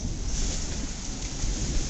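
Rain falls outside in a steady, dense hiss with a low rumbling undertone, continuous and fairly loud, with no voices.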